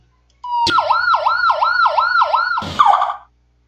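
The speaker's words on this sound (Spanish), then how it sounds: "si la ambulancia va a pasar por un cruce, ¿correcto? o hay muchísimo tráfico, va a utilizar el siguiente sonido" A loud, fast wailing ambulance siren, the pattern used for crossing intersections, sweeps up and down in rapid repeated cycles for about two seconds, then breaks into a harsher blast before cutting off.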